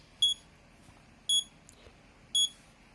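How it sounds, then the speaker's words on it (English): An Arduino-built bomb prop used in gel blaster matches emits three short, bright electronic beeps, evenly spaced about a second apart, with near silence between them. "it'll resume beeping again"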